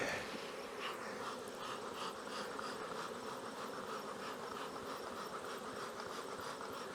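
Honey bees buzzing at working nucleus hives during syrup feeding, a steady dense hum that fills the background evenly and continuously, no voices.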